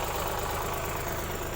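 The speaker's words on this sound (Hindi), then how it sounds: "ट्रैक्टर जा रहा है" Tractor engine running on a farm field, a steady low rumbling drone at moderate distance, continuous and fairly faint, with no talking over it.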